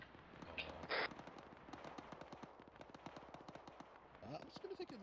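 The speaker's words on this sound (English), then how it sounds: "Don't worry about the shots towards the east." Gunshots crack off in a steady stream from the east, sharp popping reports at a distance and in quick uneven bursts, mixed in with people talking nearby.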